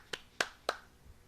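Three sharp, evenly spaced hand claps ring out close by, each a crisp, quiet slap with a quick fade and no voices in between.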